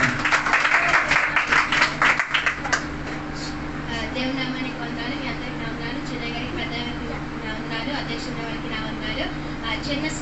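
An audience at a youth fellowship meeting claps in a rapid burst for a couple of seconds, then the room settles into a low hum with a voice speaking.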